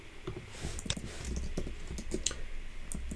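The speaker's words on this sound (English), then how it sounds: "make sure you type it out correctly." Fingers type Java code on a computer keyboard, a steady close patter of light key clicks with a few sharper taps, continuous and moderately quiet.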